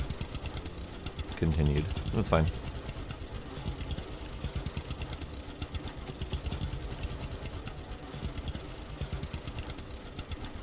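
Tractor engine idling in the logging game Lumberjack's Dynasty, a steady low mechanical drone with rapid knocking pulses running throughout, briefly under a short spoken remark near the start.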